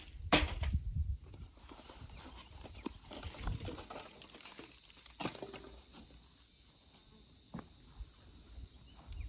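Soil is poured out while plants are potted up, giving a loose, uneven rustling and crumbling with several soft thuds and scrapes close to the microphone.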